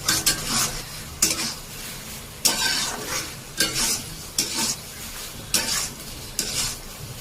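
Spice paste with Kashmiri chilli and potatoes being stir-fried in a pan, loud close sizzling broken by regular scraping strokes of a spatula every second or so.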